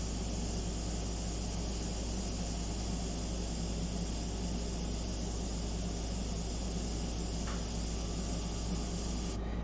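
An airbrush sprays paint onto a portrait surface in a steady, unbroken hiss that stays at an even level throughout, with no talking.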